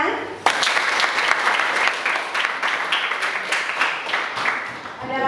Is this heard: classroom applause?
yes